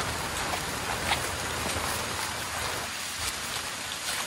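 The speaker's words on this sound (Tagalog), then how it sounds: "Yan na, ulan talaga." Steady rain falls outdoors near a river at Hagdan-Hagdan Falls in Mauban, Quezon, a dense hiss of drops on surfaces that holds even and close throughout, with no voices.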